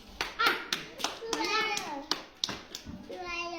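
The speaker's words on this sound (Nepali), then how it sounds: "ताली बजाइदिनु" Children clap their hands during a balloon-popping alphabet game, with short sharp bursts of clapping spread through the clip amid a voice and classroom chatter.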